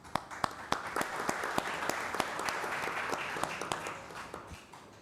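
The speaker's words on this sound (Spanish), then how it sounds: "recibimos con fuertes aplausos" An audience at an international academic engineering conference applauds to welcome a speaker, a moderate steady clapping with a few sharp, close individual claps standing out before it fades.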